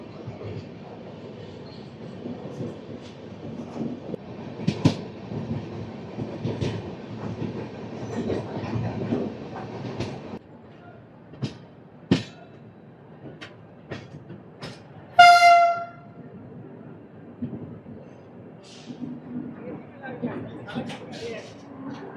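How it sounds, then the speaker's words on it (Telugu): A Tirupati–Kakinada express train runs through a station with rumbling wheels and clickety-clack. A sharp horn blast sounds midway, and voices talk faintly in the background. "ఆ ట్రైన్ వచ్చేసరికి తిరుపతి నుంచి కాకినాడ వెళ్ళే ఎక్స్ప్రెస్ ట్రైన్ ఇది"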